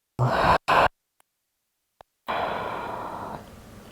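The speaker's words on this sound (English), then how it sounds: "And exhale." A deep yoga exhale: two short breathy bursts, a near-silent pause, then a long, steady, audible out-breath that slowly fades, close to the microphone with no talking.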